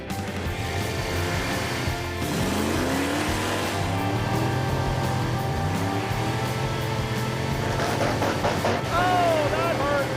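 A car pulls hard from a standstill in low gear, its engine roaring and rising in pitch with gear changes over about ten seconds, loud and close, with a voice talking over it.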